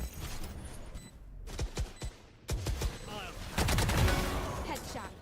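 Gunshots in a competitive Valorant esports match, several sharp isolated cracks early on followed by a denser cluster of shots, heard at moderate level under caster commentary.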